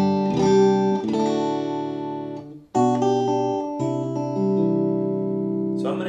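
A Fender Stratocaster electric guitar played through a Vox AC30 amp rings out in sustained, strummed chords, two clear phrases separated by a brief pause, close and loud with no voices.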